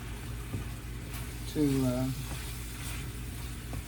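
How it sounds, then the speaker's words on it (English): A wooden spoon stirring pork in a metal pan, with a steady frying sizzle throughout and brief voiced sound partway through, close and fairly quiet. "And this is a metal pan, so I'll just use this wooden spoon to"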